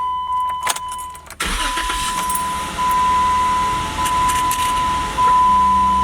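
A Jeep Wrangler with 51,000 miles, recently repaired for an engine tap, is cranked and started; a short key jingle comes first, then the engine catches and settles into a steady, fairly loud idle heard up close.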